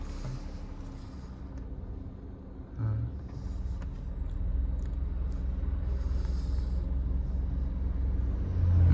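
A learner driver's car engine rumbles low and steady as the brake comes off, then swells a little louder as the accelerator is pressed, a continuous close hum with no talk.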